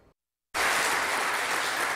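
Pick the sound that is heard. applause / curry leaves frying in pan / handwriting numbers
applause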